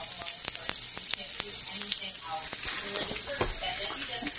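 Ahi tuna searing in a pan with coconut oil, salt and pepper, a bright close sizzle with sharp pops and crackles spread throughout.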